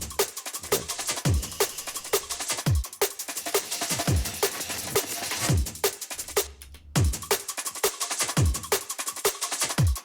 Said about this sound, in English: we have the Ableton drum bass on a low mix, just doing some soft distorting